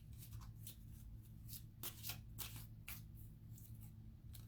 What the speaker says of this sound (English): I'm not going to shuffle real fast.